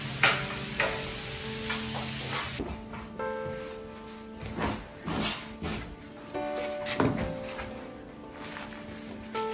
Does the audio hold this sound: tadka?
yes